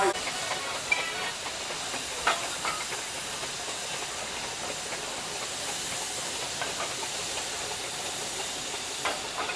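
A steam traction engine at a steam rally gives off a continuous, fairly quiet hiss of escaping steam, steady throughout with a few faint knocks and clanks, and no voices.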